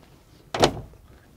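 Cab door of a Lugong CLG922E Tier 4 final hydraulic excavator opening with a single short, close latch-and-swing burst, alone in a quiet setting.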